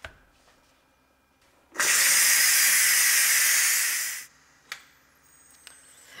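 A pressure cooker vents steam in one loud, steady hiss lasting about two and a half seconds, then cuts off. Quiet kitchen sounds and a couple of faint clicks come before and after it. The cooker holds beef tips, rice and broccoli.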